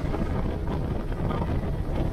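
Loud, steady wind rushes over a microphone aboard a GROM EVO 350 boat speeding across the water, a dense, continuous buffeting roar with no speech.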